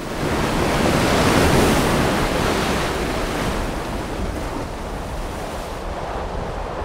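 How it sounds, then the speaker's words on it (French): Ocean waves forcing their way through a basalt tunnel blowhole on the Tahiti coast, a loud, broad roaring surge that swells and then slowly eases, with wind buffeting close by and no voices. "Les vagues pénètrent avec force dans un tunnel de basalte et produisent un jet d'eau puissant à la sortie"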